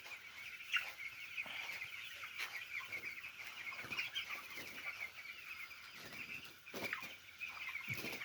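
A flock of chickens clucking steadily at a farm, soft overlapping calls and murmurs heard at a moderate distance, with a few brief wing flaps and no talking.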